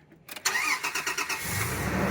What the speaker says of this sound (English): the truck started, so that's great